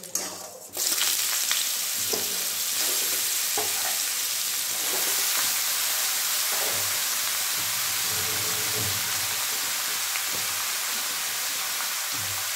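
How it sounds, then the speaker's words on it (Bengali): Mung dal frying in a pan on the stove gives a steady, close sizzle with occasional scraping stirs, loud and continuous throughout with no voices. "মুগ ডাল তো হালকা লাল লাল ভাজা হয়ে আসুক"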